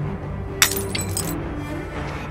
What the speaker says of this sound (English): And then I smashed the vial against the nearest tree.